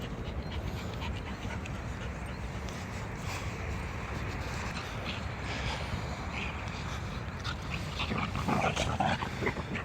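Dogs pant and move about close by on an early morning walk along an ocean front on Blythe Island, with steady breathing over a continuous outdoor wash of wind and water.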